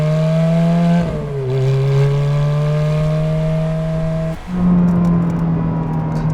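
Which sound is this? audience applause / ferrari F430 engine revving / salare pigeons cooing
ferrari F430 engine revving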